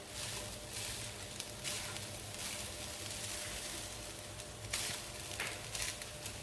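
Rice is stir-fried with vegetables for Chinese-style rice, making a quiet, continuous sizzle with intermittent stirring swishes and scrapes.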